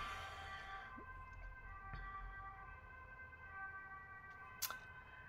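An ambulance siren in a town close to a hospital sounds faint and distant, a steady wailing tone over low background rumble with no talk.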